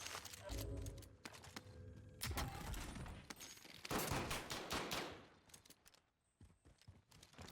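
Bursts of gunfire in a Call of Duty Warzone match, several rapid volleys and sharp shots coming in clusters across the clip, loud and close, mixed with game noise and some voice activity.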